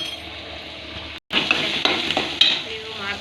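Tempering for an elephant foot yam (suvarna gadde) palya sizzles in hot oil with stirring scrapes and light clinks of a spoon against the pan, after a brief silent gap, loud and close.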